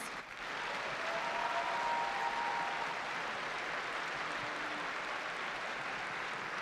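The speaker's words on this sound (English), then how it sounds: "Please give her a warm round of applause." A large audience applauds warmly at a robotics state championship event, a dense, steady wash of clapping that swells quickly and holds at full strength throughout.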